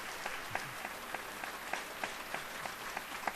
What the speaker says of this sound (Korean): 사랑합니다 박수하겠습니다